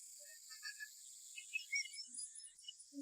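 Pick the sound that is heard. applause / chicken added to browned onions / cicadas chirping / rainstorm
cicadas chirping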